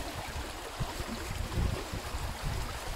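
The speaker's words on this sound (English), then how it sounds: "You can see how fast the water is moving below me" Fast-moving river water rushes below a footbridge, a steady broadband wash with low churning bursts, close and continuous without voices.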